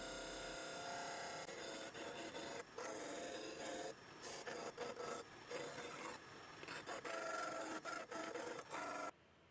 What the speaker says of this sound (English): And now I just need to sand the other two sides to fit in those rabbets I just cut.